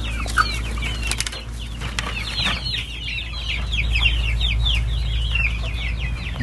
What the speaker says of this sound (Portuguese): Aqui as nossos franguinhos, galinheiro.